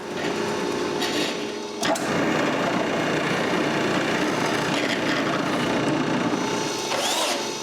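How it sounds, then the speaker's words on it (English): A drill bores bolt holes through a wooden jig for a weaved cribbage board, its steady high whine running continuously at close range, broken by a brief sharp knock near the two-second mark. "I'm able to drill the holes."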